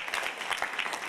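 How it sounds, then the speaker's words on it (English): Brief burst of audience applause for a participant at a talk on seeing clearly: a short, dense patter of many hands clapping at moderate distance, lasting about a second. "Everybody give Takeda a round of applause."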